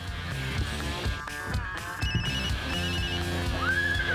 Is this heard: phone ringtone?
yes